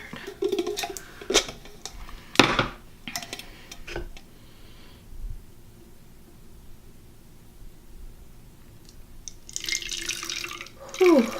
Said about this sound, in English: I'm gonna fill this up because I don't feel like getting up and going and getting water.